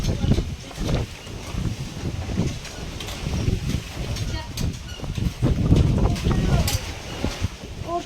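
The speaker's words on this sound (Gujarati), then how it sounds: "કેટલો પવન છે જો" Strong village wind buffets the microphone in loud, rumbling gusts that rise and fall unevenly throughout, with occasional rustling.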